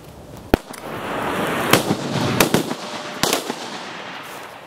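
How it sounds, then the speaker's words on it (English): A multi-bang grenade bursts into seven submunitions, firing a rapid run of sharp, loud bangs over a crackling, hissing wash of noise. "that right there was a hell of a bang."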